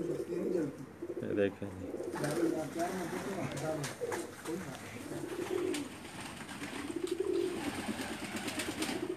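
Pakistani pair pigeons coo at a rooftop loft in repeated soft, throaty rolls close by, while someone talks over them and a few sharp clicks and rustles are heard.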